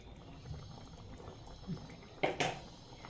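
Matar malai methi curry simmers in a pan with a soft, steady bubbling close by. The sound stays faint throughout, with a couple of brief, louder bubbling bursts near the end.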